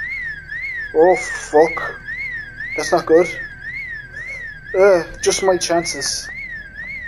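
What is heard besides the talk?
house alarm going off in Project Zomboid video game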